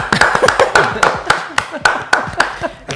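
Steady applause from a studio audience at the start of a Spanish-language legal advice program, loud close claps in an irregular rhythm, with a little chuckling or a voice mixed in.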